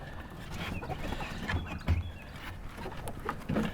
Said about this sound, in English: So we're going to let the chickens out now